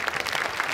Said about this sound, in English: Let's get that applause. I feel like giving some claps real quick.